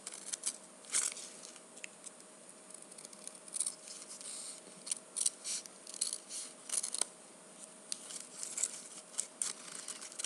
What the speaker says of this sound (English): I'm going to cut on that line.